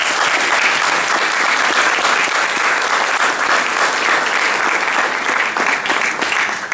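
A large audience at the 2014 awards ceremony claps in a loud, full round of applause that holds steady for several seconds without pause, close and dense, with no voices standing out.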